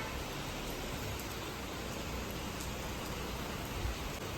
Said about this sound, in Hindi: कंटिन्यू बारिश है, कंटिन्यू परसों से।